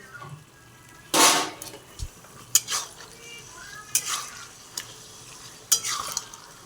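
Chicken pieces tipped into a pan of fried potatoes for a chicken curry, with bursts of sizzling, metal spoon clinks and scraping against the pan, all fairly close and without speech.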